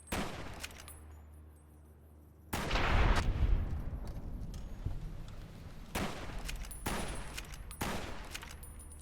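Video game gunfire, fired from the hip, crashes out in loud broadband bursts after a quiet start, with several sharp volleys spaced a couple of seconds apart and no talking.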